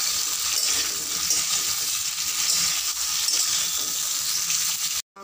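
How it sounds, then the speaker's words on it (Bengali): Cut star fruit sautés in oil for a sweet Bengali chutney with kasundi, a steady close sizzling hiss with faint stirring scrapes that cuts off abruptly near the end, no talking. "এবার এর মধ্যে দিয়ে দেবো কেটে রাখা কামরাঙাগুলো। দিয়ে এটাকে কিছুক্ষণ কষে নেব।"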